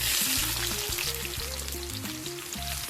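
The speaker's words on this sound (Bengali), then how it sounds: "পেঁয়াজটাকে লাল লাল করে ভেজে নেবো" Chopped onion frying in hot oil with whole cumin and bay leaves for a mutton curry makes a steady, close sizzle that carries on alone for a few seconds.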